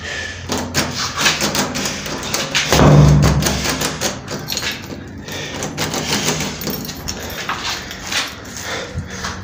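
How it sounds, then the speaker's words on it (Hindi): A wrong key is jiggled in a locked house door, producing a steady run of close metallic clicks, taps and rattles with one heavier thud partway through, over faint background noise. "लो जी अब चाबी नहीं लग रही"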